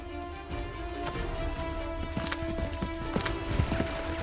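Galloping horse hooves in the Assassin's Creed III video game, a steady rapid clip-clop pounding throughout over a background game soundtrack, moderately loud with no talking.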